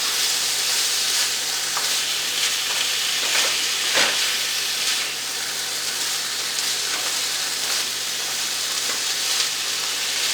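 Pork, onion and jalapeno sizzle steadily in a pan, a continuous close frying hiss with faint stirring scrapes and no talk.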